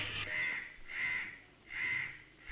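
Crows caw three times in a row, each call a drawn-out, harsh rasp with short pauses between them. The calls are fairly close and stand alone, with no talk, and a brief knock comes right at the end.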